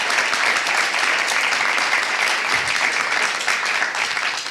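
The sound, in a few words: applause for the speakers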